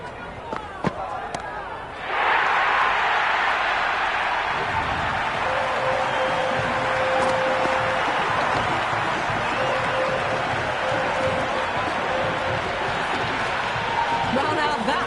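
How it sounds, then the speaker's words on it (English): Loud, dense cheering of a large crowd at a T20 World Cup cricket match between Zimbabwe and West Indies, swelling suddenly and then holding as a sustained roar, with a commentator's voice faintly underneath. "Will you listen to that crowd? They are loving this."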